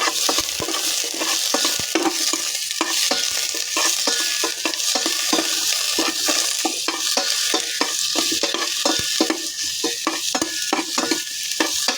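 Duck pieces for ginataang pato sauté in hot oil in a pan, a steady loud sizzle with frequent scraping stirs and clinks of a utensil against the pan, no voices.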